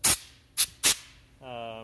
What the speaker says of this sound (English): so now I hear the compressed air